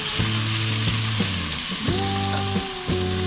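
Chopped onions fry in hot oil with a steady, dense sizzle, joined by a few brief tonal clinks or scrapes, close up and with nobody talking.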